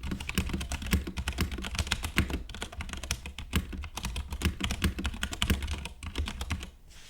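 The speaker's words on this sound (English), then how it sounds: "The brown switches on this keyboard feel great to type on and even better to" Typing on an RK61 Royal Kludge mechanical keyboard fitted with brown switches, a steady run of close, crisp key clacks at a busy, uneven rhythm, with no voices.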